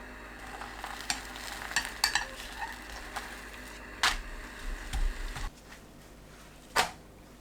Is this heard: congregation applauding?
no